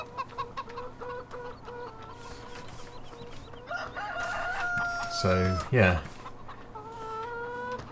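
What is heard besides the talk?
chickens clucking in a video game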